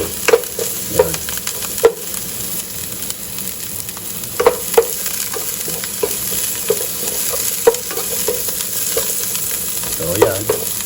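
Onions caramelizing in a pan for sinigang sa batuan, a constant close sizzle broken by frequent clinks and scrapes of a spatula stirring against the pan, with no voices.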